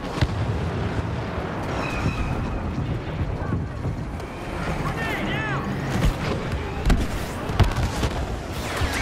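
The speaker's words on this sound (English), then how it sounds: "Grenade" Grenade blasts and battle noise in the Star Wars Battlefront video game: booming explosions amid dense, continuous combat din with gunfire, loud throughout, while a voice speaks over it.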